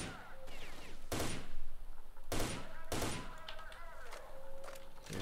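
Gunfire in the video game S.T.A.L.K.E.R.: Shadow of Chernobyl: three loud, sharp single shots at irregular intervals, each with a short echoing tail, over steady in-game ambience.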